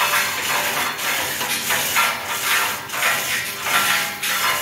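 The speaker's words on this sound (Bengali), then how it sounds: "এদিক দিয়ে আরেকটা ওয়েল্ডিং চলতেছে।" Electric welding on a rooftop job fitting the silencer of a 1010 kVA Cummins Jackson generator. A steady, dense hiss and crackle runs continuously with pulsing surges, fairly loud and close. No one speaks.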